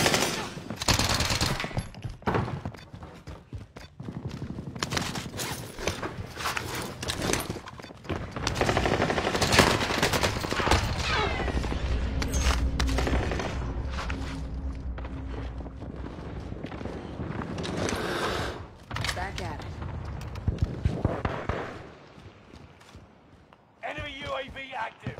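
Dense video-game gunfire, with machine-gun bursts and rapid single shots cracking almost continuously and a few quieter gaps. A player's voice shouts over it now and then.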